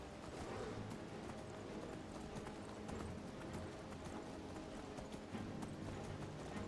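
A horse gallops in Skyrim with steady, rapid hoofbeats running continuously, mixed into a dense game soundscape of wind and rumble, loud and close throughout.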